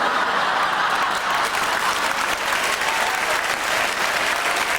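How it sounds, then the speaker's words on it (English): Studio audience at a live comedy show breaking into loud, sustained applause, a dense even clatter of many hands clapping throughout without a pause. "You don't have to clap while on stage, you're exempt."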